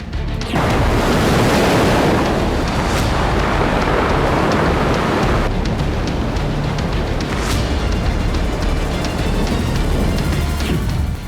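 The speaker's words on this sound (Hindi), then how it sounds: "उफनती लहरों के बीच खामोशी से बढ़ते सैनिक" Surging waves on the Black Sea crash and roar in a loud continuous wash with heavy surges, no voices.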